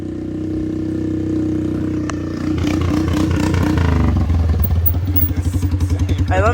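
A straight-piped four-wheeler ATV runs loud and close, idling with a steady throbbing drone before revving up into a harsh, pulsing exhaust rattle, with a voice speaking over the engine.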